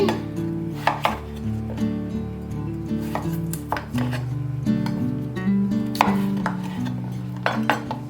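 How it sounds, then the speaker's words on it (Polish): A knife chops potatoes into quarters on a board during home cooking, giving repeated sharp cuts in an irregular rhythm under steady background music, with a few clatters of utensils, close and clear. "ziemniaki kroję na takie, e, jak widzicie, ćwiartki"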